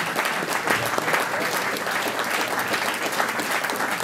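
Audience at a public talk at the Scuola dei Beni Comuni applauds Professor Ilvo Diamanti, a dense, even wash of many hands clapping steadily for several seconds, with a faint voice underneath.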